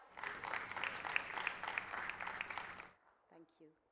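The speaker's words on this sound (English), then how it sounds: "Let's welcome her with a round of applause." A round of applause from the audience at a government MoU signing ceremony, moderate and even for about three seconds, then fading out as a brief voice follows.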